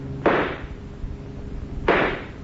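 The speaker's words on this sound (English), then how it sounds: "I'm going to try and shoot out a tire" Two sharp gunshot sound effects in an old-time radio crime drama, fired at a fleeing car's tire. The bursts are loud and close and land about a second and a half apart over a low rumble.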